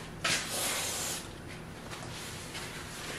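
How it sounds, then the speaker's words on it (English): Aerosol can of carburetor cleaner sprayed onto metal in a workshop: one close, forceful hissing burst lasting about a second, then a softer hiss that fades. "I got carburetor cleaner."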